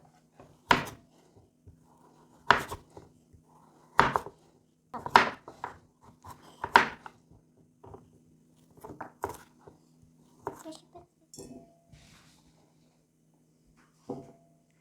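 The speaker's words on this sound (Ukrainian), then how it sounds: "можемо нарізати на довільні шматочки" Peeled pumpkin being cut into pieces on a board, a series of irregular knife chops with woody knocks, close and clear against a quiet background.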